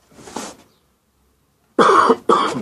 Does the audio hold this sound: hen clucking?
no